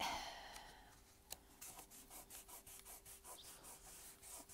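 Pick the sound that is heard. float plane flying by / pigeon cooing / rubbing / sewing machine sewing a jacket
rubbing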